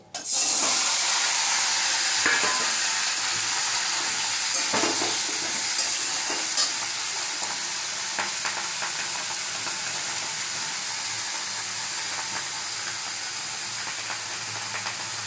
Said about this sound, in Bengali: এবার কেটে রাখা বেগুনটা দিয়ে দিচ্ছি